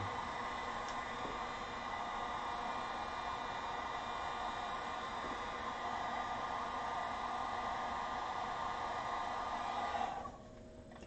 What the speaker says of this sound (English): I can't set down this heat gun right now because it's cooling down